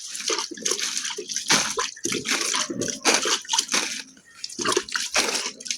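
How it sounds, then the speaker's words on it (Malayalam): Water sprinkled by hand over freshly planted seedlings mulched with dry leaves, splashing in irregular bursts of patter and drips onto the leaf litter, close and fairly loud. "കുറച്ച് വെള്ളം കൂടെ തളിച്ചു കൊടുക്കാം."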